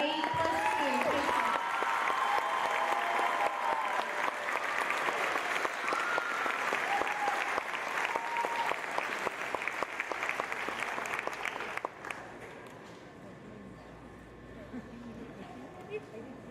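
A sustained round of applause at a school leadership assembly fills the hall with loud, steady clapping and some cheering voices, then drops off and fades near the end.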